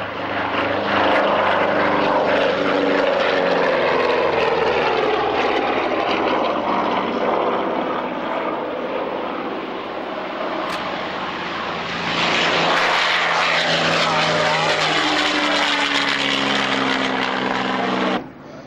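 Propeller aircraft getting airborne at the Duxford Flying Legends airshow, a loud, sustained engine roar and drone filling the whole stretch and swelling again toward the end.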